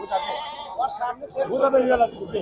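Black Bengal goats bleat several times close by at a goat market, overlapping cries coming in uneven bursts.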